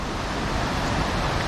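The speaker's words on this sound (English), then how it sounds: "We have to cross this river" A river in Sapphire Valley, western North Carolina, rushing steadily nearby, a dense, even broadband wash with no breaks, alone and fairly loud throughout.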